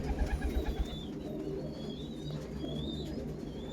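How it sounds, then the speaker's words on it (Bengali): Several pigeons cooing nearby in low, throaty rolling calls, with a few faint chirps and light rustling in the background. "পায়রা দেখুন, সব বাড়ির বাচ্চা।"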